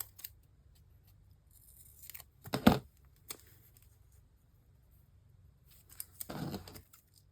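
Scissors snip paper for a creative journal, with one sharp cut near the start, another shortly after and a longer crisp cutting pass near the end. The cuts are close and fairly quiet, separated by near-silence.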